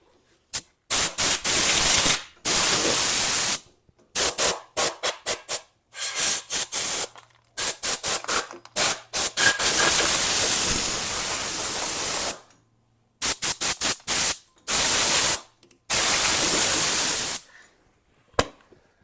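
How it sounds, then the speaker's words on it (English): An air blower clears sand off a Chinese mini skid steer in a yard, giving loud hissing rushes of air in short and long bursts. Brief silent gaps separate the blasts. "In case you're wondering, this is my OSHA compliant blower."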